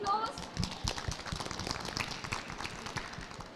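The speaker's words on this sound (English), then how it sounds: "So can we give a round of applause?" Audience applause at an expo session on challenging abuse and empowering survivors: a dense, steady patter of many hands clapping in a room, moderately loud and sustained throughout.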